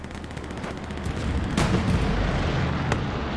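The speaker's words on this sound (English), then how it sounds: "Here comes the bombing." Artillery bombardment in a multiplayer video game match, heard as loud, dense rumbling booms with sharp blasts rolling continuously over a few seconds, with no talking.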